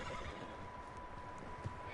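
A horse neighs in the Red Dead Redemption 2 video game, a moderately loud whinny set against a steady wash of ambient game noise with a faint tone running underneath.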